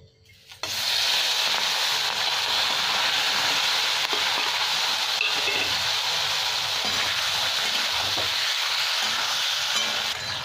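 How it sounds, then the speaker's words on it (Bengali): Shrimp drop into hot mustard oil and fry with a loud, steady, close sizzle that starts abruptly after a brief quiet moment and keeps going unbroken while a Bengali-style shrimp dish is cooked. "তেলটা গরম হয়ে গেছে, এবার আমি চিংড়ি মাছগুলো সব দিয়ে দিচ্ছি"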